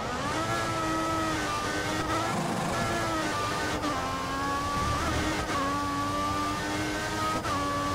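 A Formula 1 car in F1 2014 screams in eighth gear with a steady, loud, high-pitched engine whine that rises and dips slightly, and brief dips suggest quick gear or throttle changes.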